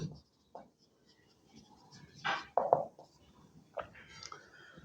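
A pen scratches across paper while working out a maths sum on copper and zinc mixture ratios, short faint strokes coming in small bursts with quiet pauses between them.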